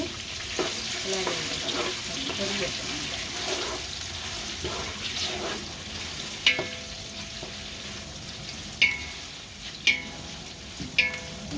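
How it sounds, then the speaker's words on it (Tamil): Sliced onions frying in oil for a home-style biryani make a steady hissing sizzle, with occasional sharp metallic clinks of a utensil against the pot toward the end and no speech. "வெங்காயம் பொரிஞ்சு வந்தால் இதெல்லாம் பொரியணும்"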